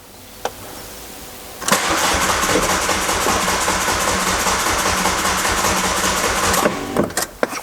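A car engine cranks steadily for about five seconds without catching, a loud, continuous churning starter whir close by, framed by a few clicks and knocks, on a car undergoing a home timing belt replacement.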